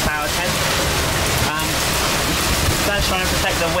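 Wind and rain lash an outdoor monster truck event in Europe, a loud continuous roaring wash of gusts and drumming rain that fills the whole stretch without pause.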